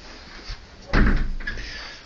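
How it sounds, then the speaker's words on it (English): A flat's hallway door swings shut with a solid thud and brief rattle, loud and close, followed by a short click at the end in a quiet indoor space. "It's nice and quiet once you close the door."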